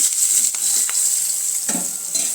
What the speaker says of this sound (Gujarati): મીઠા લીમડાના પાન એક તમાલપત્ર લીલા મરચાં આ બધું આપણે સરસ રીતે સાંતળી લેવાનું છે